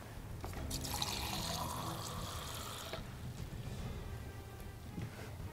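Soft splashing and trickling of water being poured for a plant diffusion demonstration, fairly quiet and close, with a few small drips and clinks near the end; no talking.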